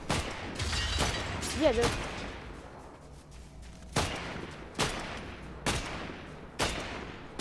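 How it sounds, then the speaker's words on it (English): Video game gunfire from a Magneto mythic match: several sharp shots ring out as separate bursts, around the first second and then spaced through the later seconds, mid-distance and moderately loud, with a player talking over the first part. "Why are you getting shot at?"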